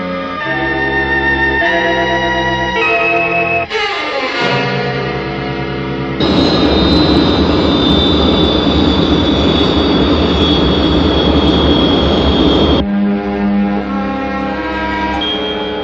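Jet airliner roaring in flight before landing at New York International Airport, a loud continuous engine drone with a rising whine, set among swelling music with no voice over it.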